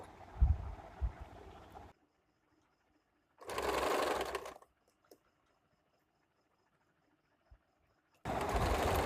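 A home sewing machine stitches a puff sleeve in bursts: a short run with handling noise, a pause, a loud even whirring run of about a second, then silence and another run starting at the end.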